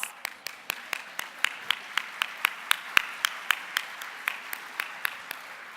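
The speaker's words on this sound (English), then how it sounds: "I know that you're applauding" At the 2017 Miami Book Fair in Miami, Florida, an audience claps in a steady, evenly spaced rhythm of sharp individual claps, fairly close and clear, with no talking.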